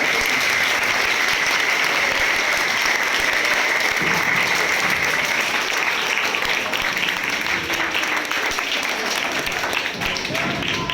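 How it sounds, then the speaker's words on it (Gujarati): An audience applauds nursing college students before their drama performance, a loud, dense, unbroken burst of clapping filling the hall for several seconds, with a few voices faintly underneath. "ચાલો આપણે બધા સ્ટુડન્ટ માટે એક વખત તાળીઓ પાડી દો તમારા માટે"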